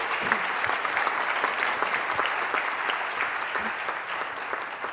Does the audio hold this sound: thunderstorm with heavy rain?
no